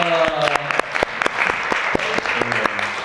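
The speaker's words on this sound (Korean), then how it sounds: "그래서 피아노 만든 우리 김하은 자매 우리 박수로 환영합니다." A church youth retreat congregation claps in welcome, with a fairly close, full burst of applause mixed with sustained low tones and some voices underneath.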